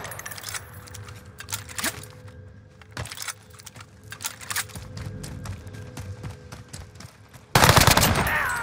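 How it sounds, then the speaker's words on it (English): Hostile gunfire in a Warzone video game match, a run of sharp, scattered shots and bursts crackling across the scene at moderate distance, ending in a sudden loud, dense blast of noise close by. "Receiving hostile fire."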